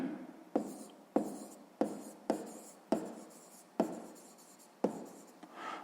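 Pen strokes scratch across paper while solving a sixth-grade math exercise, a quiet close run of short scribbling bursts separated by brief pauses, with no talking over them.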